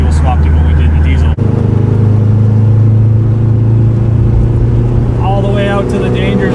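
A Volvo 242 swapped to a VW turbo diesel with a manual gearbox drones loudly from inside the cabin, engine rumble holding steady then shifting pitch through gear changes, with a person talking over it.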